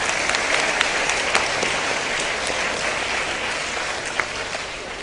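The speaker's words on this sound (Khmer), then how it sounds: "សូមផ្ទះដៃជូនគាត់មួយណា" Steady applause from an audience at an education event, a continuous wash of many hands clapping with a few sharper claps standing out, even in level throughout.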